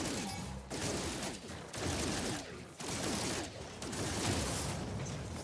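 Gunfire in No Man's Sky blasts at a door in several sustained, faint bursts separated by brief pauses.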